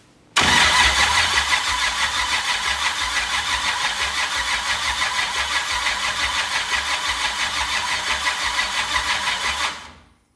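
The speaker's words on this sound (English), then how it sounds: "try winging it over and I guess see if it starts" An LS-swapped 1951 Ford Shoebox cranks on its starter in a steady, rhythmic churn for about nine seconds, loud and close, then stops abruptly.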